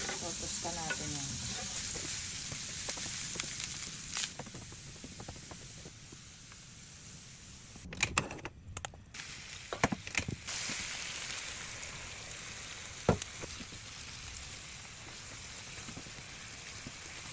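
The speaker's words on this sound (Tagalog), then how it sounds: "Lagay na natin ang bawang. Totosta natin yan." Garlic toasting in a pan for beef salpicao, a steady soft sizzle and crackle with occasional louder stirring scrapes and clatters, close but fairly quiet, no voices.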